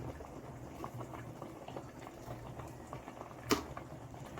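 Bagara rice boiling in a pot gives a soft, steady bubbling and patter, quiet and close, with one brief louder clink partway through and no talking.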